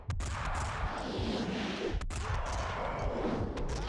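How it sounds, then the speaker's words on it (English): Dense, continuous gunfire and explosions in Max Payne 2, with sharp bursts cutting through a constant roar, loud and close throughout. "The sound design for the guns is super satisfying too."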